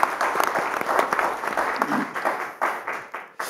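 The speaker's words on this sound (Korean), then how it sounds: "박수 크게 부탁드립니다." Audience applause at a Democratic Party leadership candidates' debate, steady clapping from a hall crowd that fades and thins toward the end.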